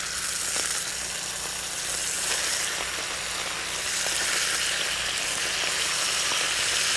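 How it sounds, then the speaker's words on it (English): Strips of steak sizzle loudly and steadily in hot oil, a continuous crackling fry close up with small pops scattered through. "Maybe you hear that sizzle. I love that sound."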